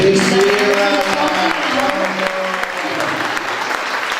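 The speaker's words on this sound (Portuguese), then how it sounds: "Queria pedir uma salva de palmas para nossa amiga" A seated audience at a literary festival panel claps steadily for a translator, a dense, sustained round of applause with faint voices murmuring underneath.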